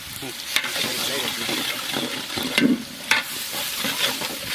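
Garlic paste sizzles steadily in oil in a large pot at a village-style kitchen, with occasional scraping stirs and utensil knocks over a continuous frying hiss.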